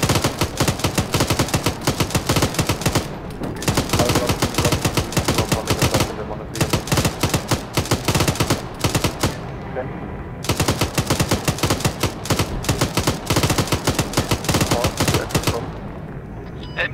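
Dense, sustained machine-gun fire in the video game ArmA 3, with rapid bursts and a few brief pauses, loud and continuous throughout, with faint German voices underneath.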